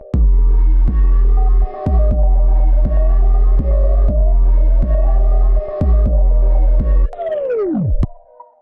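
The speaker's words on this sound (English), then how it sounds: "That sample noise and the repeating siren from the start of the song" Eerie sampled tones pulse in a steady repeating rhythm from the opening of a song about Siren Head, loud and layered, then a siren-like wail sweeps downward and cuts off near the end.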